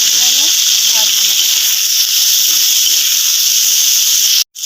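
Vegetables and chopped tomatoes fry over medium heat in a pan for vegetarian pasta, a close, steady hiss throughout, with a faint voice briefly at the start.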